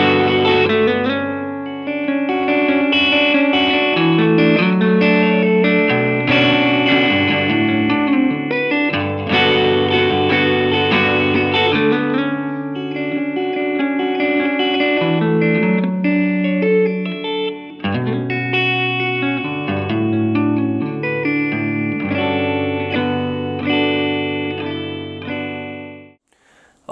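An electric guitar plays a melodic riff with chorus, distortion and echo effects, continuous and full for nearly half a minute, then fades at the end.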